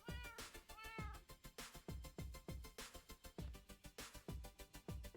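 A Minecraft cat meows repeatedly in short, evenly spaced cries, fairly close, over a steady rhythmic background beat.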